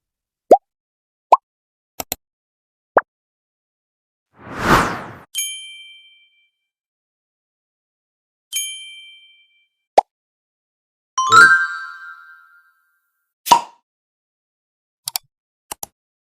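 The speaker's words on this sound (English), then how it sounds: "I'll go with the pop-up notification" Several short pop-up notification sound effects play one at a time, a series of bright pings, plops and chimes separated by silence, each crisp and close.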